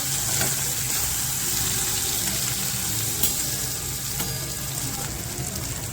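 Spice powders, red chilli and ground coriander-cumin, sautéing in a pan for an okra (bhindi) vegetable dish: a steady, close sizzle that runs throughout with a few soft scrapes and clinks.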